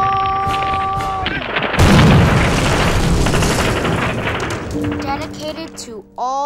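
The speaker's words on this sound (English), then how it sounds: "Release the atomic bomb!" A big, heavy explosion sound effect bursts in after a voice and tones, a loud roaring blast that rumbles and slowly fades, followed by tonal sounds and a brief voice.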